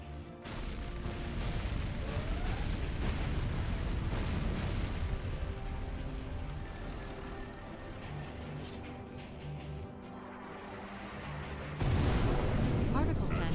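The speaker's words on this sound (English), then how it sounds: "Particle cannon activated." A particle cannon firing in the real-time strategy game Command & Conquer Generals, with sustained booming, rumbling blasts and crackling layered over game battle sounds, ending in a louder burst.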